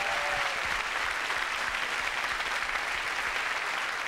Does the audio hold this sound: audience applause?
yes